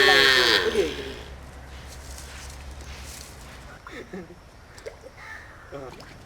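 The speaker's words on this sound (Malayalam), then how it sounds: "നമ്മുടെ കയ്യിൽ നാടൻ പശുക്കൾ മാത്രമാണുള്ളത് ഇത് വെച്ചൂരനത്തിൽപ്പെട്ട പശുവാണ്" A native Vechur breed cow on a small farm gives a loud, close moo at the start, followed by quieter background sounds and brief bits of speech.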